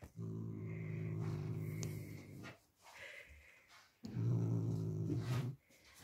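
A pet growls like a dog indoors, making two long, rough, low rumbling growls separated by a short pause with breathy snorts, close and fairly loud.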